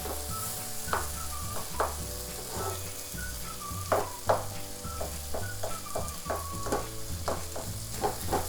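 Pav bhaji vegetables sizzling in a pan while being mashed and stirred, with a steady close frying hiss broken by repeated soft thumps and scrapes of the masher, under a low background hum and no speech.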